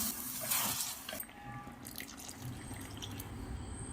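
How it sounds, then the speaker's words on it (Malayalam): Water is poured into a pan of sautéed king fish curry, a short splashing burst near the start followed by softer liquid trickling and dripping, close and fairly quiet, with no speech. "ഇനി നമുക്ക് മീൻ വെന്ത് വരാൻ വേണ്ടുന്ന അളവിലുള്ള വെള്ളം ഒഴിക്കാം"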